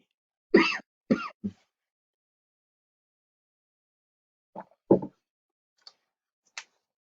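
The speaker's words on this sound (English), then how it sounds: "So this coughing is because I drank coffee a couple of minutes ago." Isolated coughs and throat clearing from a lecturer in a quiet room: a cluster of three sharp coughs, then two more after a pause, and a couple of faint ticks at the end.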